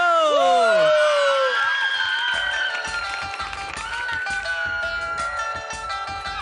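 A Thai TV studio audience cheers loudly for a singer, a dense wall of high-pitched screams and shouts that starts at full force and keeps going with scattered clapping.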